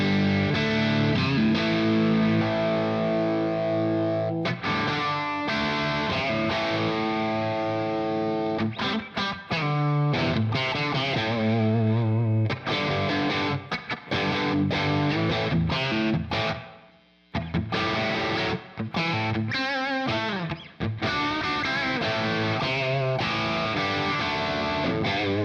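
Electric guitar through a Marshall amp with heavy gain, the boost engaged and some reverb, playing loud, sustained distorted chords and riffs for a long stretch, with one brief drop to near silence midway.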